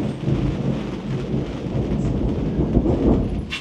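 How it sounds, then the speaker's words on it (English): Rain pours and thunder rumbles during a night storm on a boat with deck lights on, a loud continuous wash of rain with deep rolling thunder and a sharp crack at the end, no voices. "Can you listen? Can you hear that? That's the rain."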